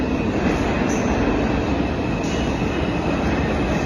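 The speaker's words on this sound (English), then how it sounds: "My train is here" A train pulls into a station, a continuous loud rumble of rolling wheels and rail noise with a faint high squeal running throughout, steady and close, with no talking.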